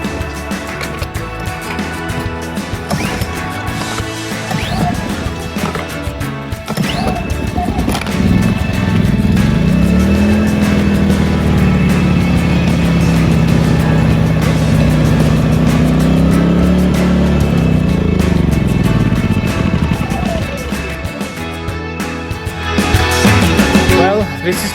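Steady engine drone of a portable gasoline generator running at a campsite, loud and continuous for over twenty seconds with a rising hum in the middle, while people talk nearby.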